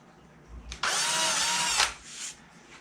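Power drill boring a pilot hole for a screw while building a guitar fret-slotting sled, one loud whine of about a second that revs up and stops, then a short tail.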